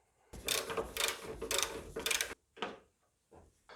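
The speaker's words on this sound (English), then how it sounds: "So with a 14mm socket, you've got 3 bolts down here. Just undo those." A 14mm socket on a ratchet undoes strut bolts on a 2014 Honda Civic, producing rapid close-up clicking ratchet bursts in several long runs followed by shorter spurts, with no one talking.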